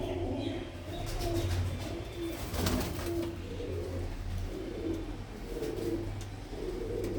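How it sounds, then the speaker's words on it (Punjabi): Pigeons, including blue-footed show breeds, coo steadily and softly, with repeated low, hollow murmurs layered over one another against a faint background hum. "ਇੰਨੇ ਨੇ ਚੰਗੇ ਕਬੂਤਰ ਨੇ ਭਰਾਵਾਂ ਦੇ ਕੋਲ"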